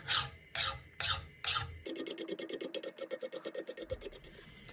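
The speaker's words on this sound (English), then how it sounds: "Now I'm going to move to finer files." Rhythmic rasping of a finer hand file on copper soft jaws for a bench vise, with four slow heavy strokes followed by a rapid run of short, even strokes, close and loud with no talk.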